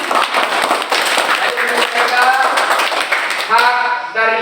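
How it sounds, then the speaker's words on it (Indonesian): A group claps loudly and steadily in a classroom for a team of students, with brief voices mixed in near the end. "Ya, tepuk tangan untuk kelompok 1."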